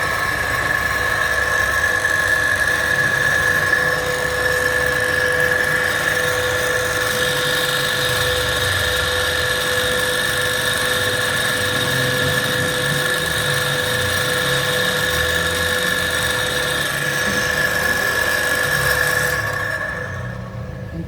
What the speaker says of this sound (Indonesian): Baiklah, kita akan nyalakan mesinnya.